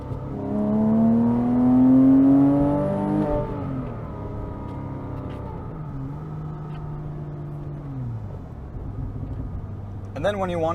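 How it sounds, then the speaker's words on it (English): A 2007 Porsche Cayman S with a six-speed manual, driven in the rain, revs up loudly and then blips through quick downshifts with rising and falling engine tones, heard from inside the car. "I just love the quick downshifts."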